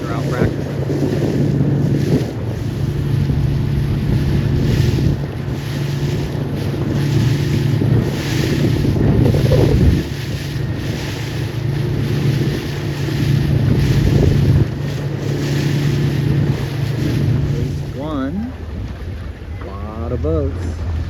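Wind buffets the microphone over rushing water and waves as two C420 sailboats sail in a regatta, with a low engine-like drone throughout and brief voices near the end.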